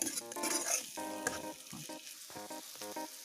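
Steady sizzling of food frying in a pan, with repeated stirring and scraping throughout.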